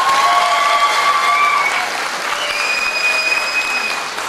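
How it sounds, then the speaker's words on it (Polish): Steady, loud applause from an audience at the Miss Ziemi Michałowskiej 2014 beauty pageant fills the whole stretch, dense clapping with a few whistles riding over it. "Wielkie brawa!"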